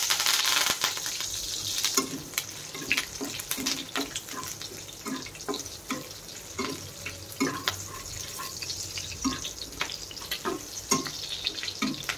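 Slit green chillies and curry leaves hit hot oil, raising a steady sizzle broken by irregular pops, crackles and stirring clatter that come and go over several seconds.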